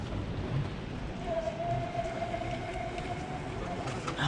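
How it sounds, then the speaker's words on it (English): Steady rain falls outdoors as a continuous broadband hiss, close and moderately loud, with a faint tonal hum running through the middle and no voices present. "Now it's raining."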